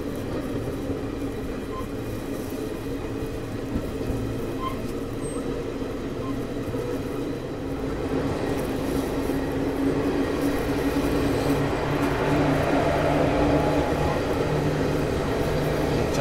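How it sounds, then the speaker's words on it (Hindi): The 22160 Chennai Mumbai Express picks up speed, a continuous rumble and clatter of wheels on rails heard from inside a coach, growing louder and denser as it accelerates. "पिकअप देखो आप ट्रेन का, यहाँ से निकलते निकलते पूरा एक्सेलरेशन"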